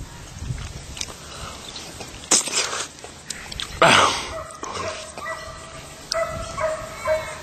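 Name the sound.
dog barking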